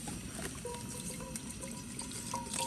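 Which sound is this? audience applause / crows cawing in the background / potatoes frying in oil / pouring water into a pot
pouring water into a pot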